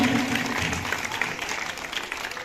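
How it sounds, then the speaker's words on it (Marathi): An audience at a patriotic song-singing competition applauds a winning contestant, a dense burst of clapping that is strongest at the start and then eases slightly over a couple of seconds. "जोरदार टाळ्या"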